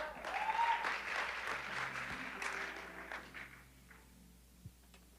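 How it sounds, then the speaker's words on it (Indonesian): A youth church congregation applauds its worship leaders and musicians, with dense clapping that starts strong and gradually thins, fading into scattered claps and light movement. "Boleh kasih tepuk tangan buat para worship leaders dan musicians"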